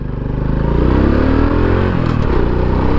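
A stock Honda Wave 125 motorcycle fitted with a smaller sprocket, riding along with a steady, loud engine drone that rises slightly in pitch as it pulls, continuous and close with no talking.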